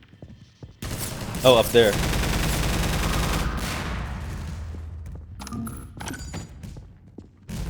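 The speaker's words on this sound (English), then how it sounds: "Oh, I'm being shot at." Enemy gunfire aimed at the player in Half-Life 2 rattles in a loud sustained burst that fades out, followed by a few scattered impacts, while a person speaks briefly over it.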